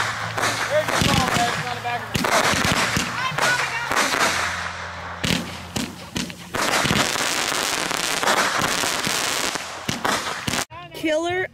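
Fourth of July consumer fireworks go off as a long run of rapid cracks, pops and bangs, loud and close, while people talk and exclaim over them.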